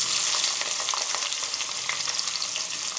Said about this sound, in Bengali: ভালো করে এগুলো পেঁয়াজগুলো একটু ভালো করে ভেজে নেব